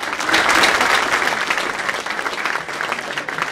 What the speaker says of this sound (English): let's give God a hand of applause to Gary right now.